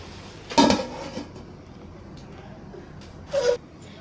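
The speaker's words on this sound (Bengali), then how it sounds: "এখন এটাকে আমি 5 মিনিটের জন্য ঢাকনা দিয়ে ঢেকে রাখবো।" A lid meets a pan of cabbage fry with coriander leaves in a home kitchen, making two separate sharp metallic clanks a few seconds apart, close by against a quiet background.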